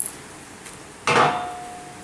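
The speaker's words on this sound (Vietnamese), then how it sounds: "Chúng ta tháo chốt ở cái mũi khoan ra" A pin is pulled from the drill bit of a Mitsuyama TL-630 earth auger, making a single sharp metallic clink with a brief ringing tail, close and alone after near silence.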